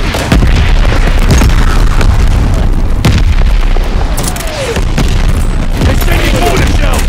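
Mortar shells exploding in the video game Call of Duty Vanguard, a dense barrage of loud, close booms and rumbling blasts rolling almost continuously, with a short lull midway before more impacts.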